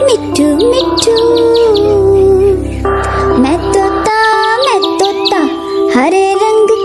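Green parrot with a red beak chirping in an animal-sound song, repeated bright high chirps and whistles over steady musical accompaniment, loud and close.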